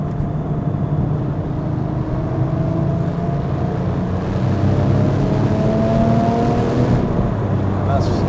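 Porsche 997.1 Turbo engine pulling hard in third gear, a steady loud rising drone with harmonics climbing across the run, close and continuous with road rush beneath.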